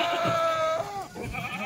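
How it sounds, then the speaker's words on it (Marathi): A goat bleats up close in a farmyard, a long wavering cry followed by shorter broken bleats, with no talk over it. "बकरी घे रे पहिलं पाटा"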